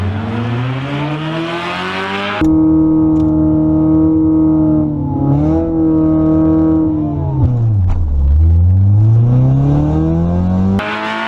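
A drag racing car on Nitto NT01 drag radials revs and holds its RPM, a loud close engine drone with a steady tone that dips and climbs again, ending in a sudden cut.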